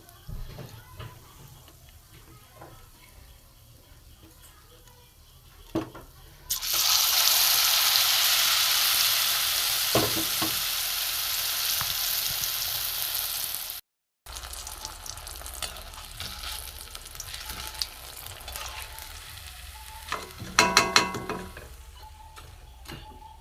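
Green pea chops fry in hot oil, a loud steady hiss of sizzling bursting in after quiet kitchen clatter, then after a short break softer bubbling with a few scrapes and knocks of a utensil.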